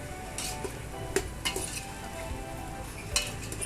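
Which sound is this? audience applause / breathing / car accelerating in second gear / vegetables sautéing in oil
vegetables sautéing in oil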